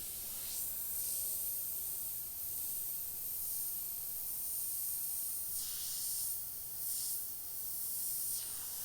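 Sepia paint hisses steadily from an airbrush worked over a plastic skull stencil, a continuous close, soft spray with a few brief stronger bursts.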